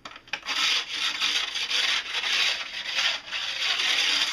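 A sharpening stone rubs up and down a snowboard's burred metal edge in steady, close, rasping strokes with brief pauses between passes.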